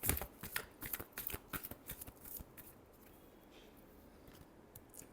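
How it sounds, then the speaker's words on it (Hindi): Tarot cards are shuffled in quick riffled bursts, a run of crisp papery flicks and slaps close by that thins out and goes quiet toward the end. "last shuffle"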